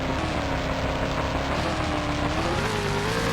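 Monster Mutt monster truck in the Monster Jam Urban Assault video game, engine droning continuously with rising and falling pitch as it drives and crushes cars, loud and steady throughout.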